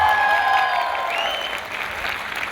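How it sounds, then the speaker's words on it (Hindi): Audience applause at a stand-up comedy show during a corporate annual function, loud dense clapping with some whistles that gradually tapers off. "एक बार जोरदार तालियां हो जाए।"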